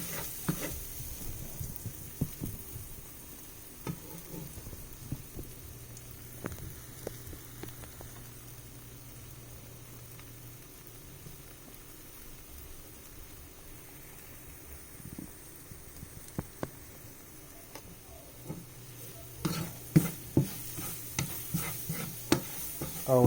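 Garlic and shrimp sauté in a pan over moderate heat with a soft, steady sizzle and occasional stirring clicks that grow busier toward the end, close by and fairly quiet.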